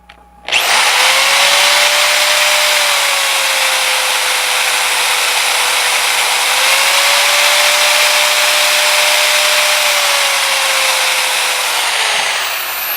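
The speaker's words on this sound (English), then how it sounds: "We can do some of it with the drill" A power drill runs loud and close with a steady whine, wavering slightly in pitch as it grinds against wood for several seconds.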